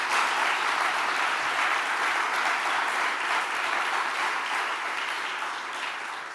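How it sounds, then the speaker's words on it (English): A forum audience at the Stoa of Attalos in Athens applauding the finalists, a dense, even wash of clapping from many hands that stays loud throughout and eases slightly at the end. "give a resounding round of applause to all these 10 finalists, amazing young people"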